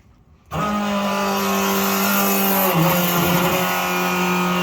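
After a quiet moment the blown big-block engine of a 1968 Barracuda suddenly fires up on its first start and runs loudly with a steady buzzing drone, pitch wavering slightly midway.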